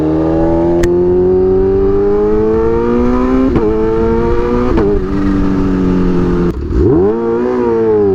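A Kawasaki Ninja H2 motorcycle revs hard, its engine note climbing steadily through gear changes, then drops and surges again during a rolling burnout, loud and close.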